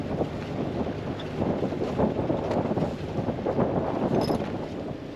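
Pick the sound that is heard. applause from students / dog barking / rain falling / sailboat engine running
sailboat engine running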